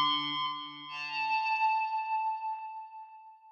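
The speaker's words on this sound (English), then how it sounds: "Here is the curve for the distortion level." Heavily distorted tones from the GeoShred instrument app ring out, a low droning part fading after a couple of seconds while bright, buzzy upper tones sustain and slowly decay.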